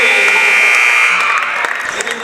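A basketball buzzer sounds at the end of the third quarter of a high school girls' varsity game between Portland and Bangor. It is a loud, sustained buzz lasting the whole moment, over crowd noise and cheering.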